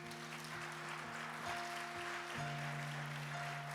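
Congregation applauding during a Portuguese-language church sermon, a sustained patter of clapping across the hall under steady held musical tones from an instrument.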